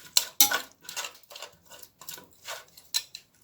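A spoon stirring meat in a cooking pot for stew peas, a run of light irregular metallic clinks and scrapes, close and moderately loud, with no talk.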